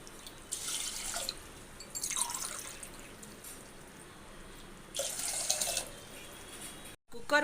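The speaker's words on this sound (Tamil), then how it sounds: "அதனால 2 கிளாஸ் தண்ணி ஊற்றிக்கலாம்." Water poured over rice in a pressure cooker while making sakkarai pongal, heard as three short, quiet splashing bursts separated by pauses, close by with no talking.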